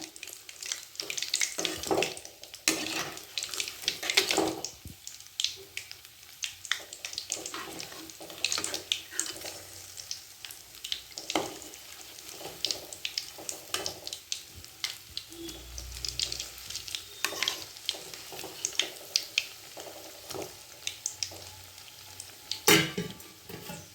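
Paruppu vadai, lentil fritters, deep-fry in oil over a medium flame, giving a quiet, uneven bubbling sizzle broken by scattered clinks and splashy bursts. No one speaks.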